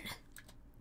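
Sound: crunch of biting into a hard waffle

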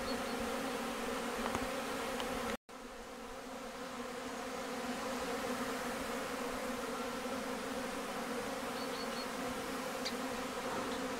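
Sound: honeybees flying out of hives for a cleansing flight in February

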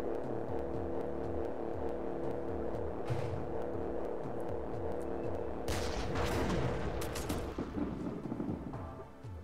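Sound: artillery and gunfire in the video game REDCON

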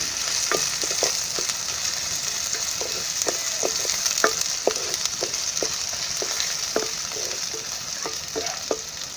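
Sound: ground garlic and cumin paste sautéing and stirred in pan

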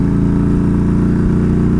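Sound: Yamaha V Star 1300 motorcycle engine revving while accelerating

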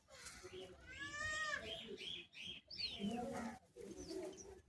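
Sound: pigeons cooing in a loft

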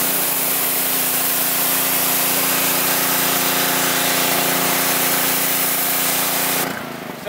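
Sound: power washer spraying water on a tire

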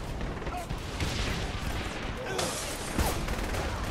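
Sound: sniper rifle gunfire in the video game Saints Row: The Third

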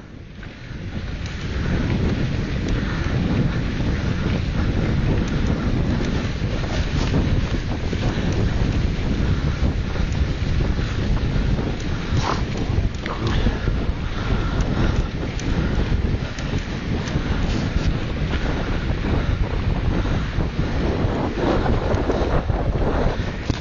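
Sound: wind at the seashore

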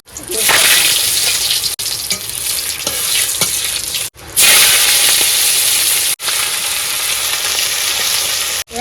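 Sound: fish curry cooking and sizzling in a pan with cumin and chili

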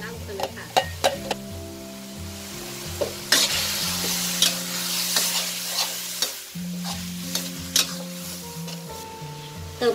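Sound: stir-frying minced pork with blended chili-tomato paste

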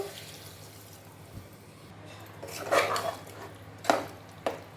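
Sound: water from mixer jar poured into curry pan

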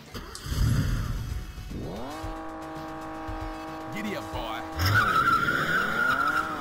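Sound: boss car skidding in Chase HQ arcade video game

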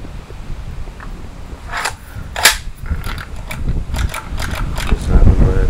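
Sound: AK47 CO2 BB gun shooting

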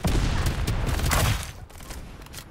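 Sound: gunfire in video game Farlight 84

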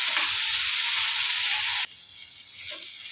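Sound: sautéing roasted peanuts and garlic in a pan

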